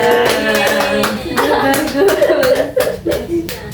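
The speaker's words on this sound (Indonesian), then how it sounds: "Oke, kasih aplaus dulu buat Mika dan Noel." Classroom applause breaks out for two pupils, a burst of brisk hand clapping mixed with light chuckles and voices talking over it.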